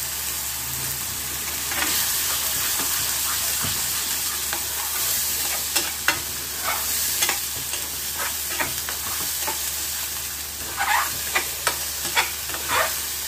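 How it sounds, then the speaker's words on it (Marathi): Masala frying in a pan over a gas flame, a steady hiss of sizzling oil broken by repeated scraping strokes of a spoon stirring, close and clear with no talking. "थोडा मसाला टाकून आपण व्यवस्थित हलवून घेऊया"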